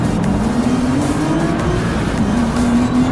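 Race cars from a Porsche Boxster Cup club event pulling away from the starting grid, a loud, steady engine drone with a rising tone as they accelerate together, no voices heard.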